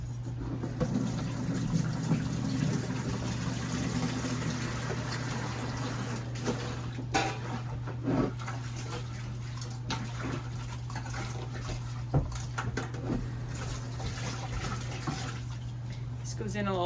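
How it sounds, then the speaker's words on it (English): Water runs steadily under a low hum while dishes are scrubbed and occasionally clink, with some talking over it. "And then everything gets washed with warm soapy water"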